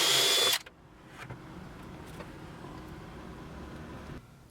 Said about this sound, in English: Now we're just gonna drill that hole